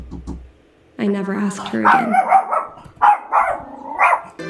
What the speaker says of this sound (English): I wish to apologize for the barking.